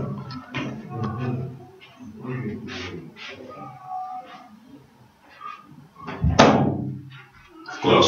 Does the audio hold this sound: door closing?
yes